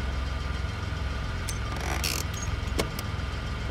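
A truck engine idles in Expeditions: A MudRunner Game, a steady low rumble running the whole time with a few faint clicks and brief noisy bursts over it.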